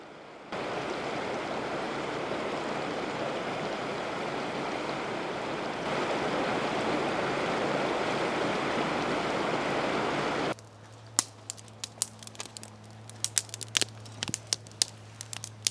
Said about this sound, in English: Good morning from the Snaring River.